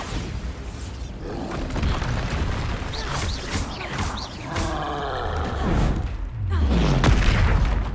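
A Bombarda blasting spell explodes in the Hogwarts Legacy video game, heavy booming impacts and rumbling crashes in a continuous loud battle mix, with a deep blast swelling toward the end.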